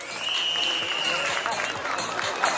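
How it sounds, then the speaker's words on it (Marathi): Audience applause for the performers of a comedy skit at a stage event in Thane, steady clapping spread across the whole stretch with crowd noise, fairly close and full. "आपल्या सर्व कलाकारांसाठी जोरदार टाळ्या एकदा होऊन जाऊ द्यात"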